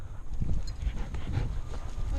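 During a pheasant hunt, a hunting dog retrieving a bird whimpers and yips faintly. A voice runs through the same stretch, and the field sounds are muffled.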